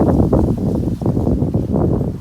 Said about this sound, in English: Please excuse any wind you might hear in the background because Mother Nature and stuff.